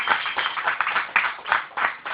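A church congregation clapping together, an even patter of hands that rises and falls in brief waves, fairly close and alone without talk.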